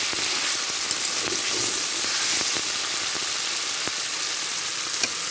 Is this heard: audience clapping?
no